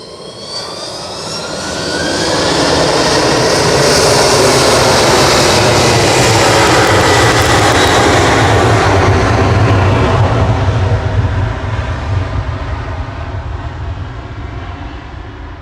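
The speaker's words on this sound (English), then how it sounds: "Aer Lingus UK, flight 35. Heading to Orlando, A330-300" An Aer Lingus UK Airbus A330-300 jet on flight 35 to Orlando at Manchester Airport roars past, rising to a loud, steady broadband engine rumble with a high whine, then slowly fading.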